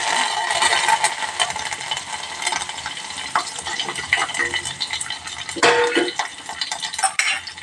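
Mango chutney stirred in a pan, a spoon scraping and clattering against metal in steady strokes over a soft sizzle, close and fairly loud, with a sharper knock near the end.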